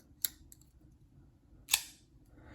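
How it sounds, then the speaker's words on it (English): A Kizer Cryptid button lock knife snaps open on its detent, giving two sharp, crisp clicks about a second and a half apart in a quiet room. "Yeah, very snappy, good snappy detent"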